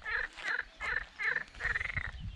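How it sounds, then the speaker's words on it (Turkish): A frog croaks about five times in a loose rhythm, each call a raspy, ringing burst, with soft rustling and outdoor noise between. "Baba kurbağa sesi geliyor Eren."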